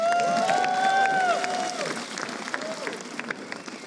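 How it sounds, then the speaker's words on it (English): A live audience applauds at an RTX 2023 tabletop game show, a burst of clapping that fades over a few seconds while tonal sounds ring briefly on top. "Everyone applaud Christopher's math."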